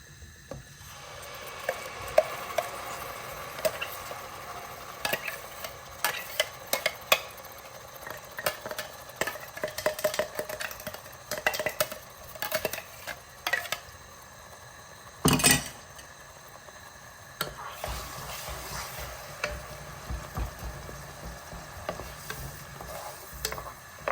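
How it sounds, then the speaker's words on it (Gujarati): Undhiyu vegetables with ground fenugreek, asafoetida and prepared gravy sautéing in a pan, with irregular scraping and clinking of a spoon against the metal over a low steady sizzle, close and moderately loud, no talking. "આપણે આને સાતળીશું થોડી વાર."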